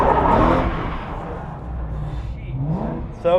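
A Ford F100 truck swapped with a GT500 engine drifts, its engine revving hard and loud up close before easing off and rising again, with tire noise in the mix.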